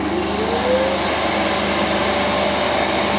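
A benchtop craft bandsaw running steadily with a dust extractor attached, giving a constant loud whirring motor drone with a faint higher whine, unchanging for a few seconds and with no voices.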